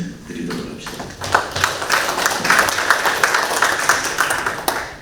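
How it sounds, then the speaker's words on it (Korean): Audience applause at a policy forum on heavy-metal pollution in the upper Nakdong River, held at Andong City Council. Dense clapping from a seated crowd swells after a quiet start and holds steady and fairly loud to the end. "우리 그 박수 한번 보내드리도록 합시다."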